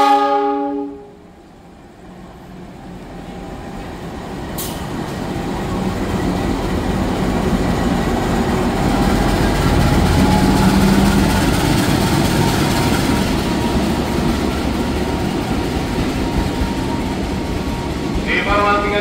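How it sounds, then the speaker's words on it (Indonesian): A train passes straight through track 3 of a busy Jakarta station at night, its heavy rumble swelling from quiet to a loud sustained roar, with a brief horn-like tone at the start. "Awas hati-hati jalur 3 dari arah barat kereta api melintas langsung jalur 3."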